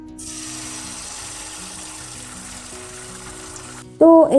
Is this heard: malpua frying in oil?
yes